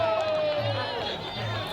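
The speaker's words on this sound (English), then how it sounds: "The crowd is cheering for me now" A crowd roars and cheers at a festival Muay Thai fight in Buriram, a continuous wash of voices with rising swells under a nearby speaking voice.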